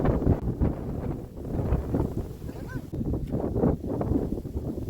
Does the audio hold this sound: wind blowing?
yes